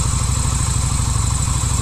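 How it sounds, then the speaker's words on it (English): A motorcycle engine, either a 1988 Yamaha Route 66 250cc or a 1978 Honda Hawk 400cc, runs at a steady, loud, close idle with an even, rapid pulsing beat and no speech. "1988 Yamaha Route 66 and the 1978 Honda Halt."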